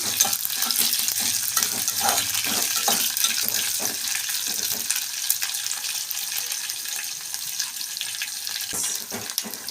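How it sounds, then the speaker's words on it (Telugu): Green chilies and onions fry in a pan with a continuous bright sizzle and crackle, while scraping and stirring strokes come through at close range the whole time. "ఇప్పుడు కొద్దిగా వేగాక ఇప్పుడు పచ్చిమిర్చి వేసుకుందాం"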